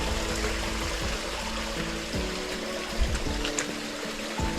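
Spring water flows at the Ein Gedi nature reserve near the Dead Sea as a continuous close trickle and gurgle, steady from start to finish with no voices.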